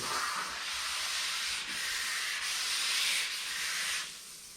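Steady dry hand sanding with 320-grit sandpaper on a car body panel, a continuous close, hissing rasp with a few brief strokes changing pace before it fades at the end.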